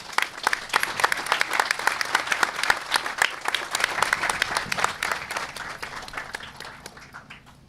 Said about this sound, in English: Ladies and gentlemen, how about a round of applause for them?